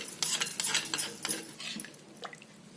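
A spoon scrapes and stirs rava dosa batter around a bowl in quick irregular strokes, light clinks mixed in, fading out toward the end; no talking.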